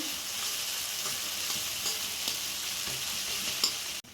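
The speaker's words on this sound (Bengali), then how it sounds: "রসুন দিয়ে একটু ভালোভাবে নাড়িয়ে চাড়িয়ে নেব" Garlic and turmeric sizzle steadily in hot oil while a utensil stirs them, with soft scraping ticks over the constant close frying hiss and no voices.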